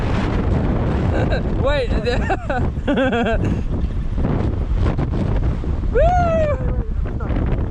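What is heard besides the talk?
strong wind blowing on a suspension bridge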